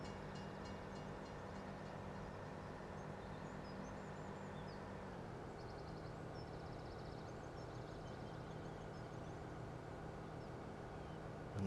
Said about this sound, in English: And now we'll back the train around the corner.